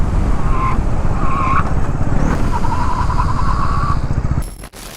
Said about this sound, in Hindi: तो मेरे को टायर से एक नॉइज़ आ रहा है, एक अजीब सा एक साउंड आपको मिलेगा जब आप ऐसे रोडों में चलाओगे।